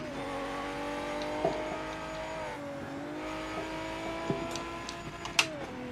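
Porsche 917 race car in a racing sim, a steady high engine drone with shifting pitch as it revs, faint tire squeals and small bumps scattered through.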